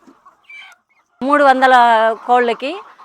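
Egg-laying hens on a poultry farm of about three hundred birds give a loud, close burst of clucking after a quiet start, with a few faint calls before it.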